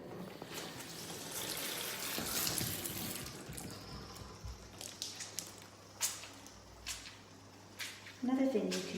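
Water is poured and squished into wet curly hair coated with conditioner, giving soft splashes and wet squelching close by, with several short separate squishes toward the end and a voice talking over it.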